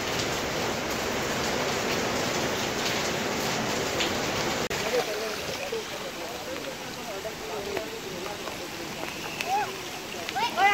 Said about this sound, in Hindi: ये तेज़ बारिश हो रही है, पतले पतले कंकड़ से आ रहे हैं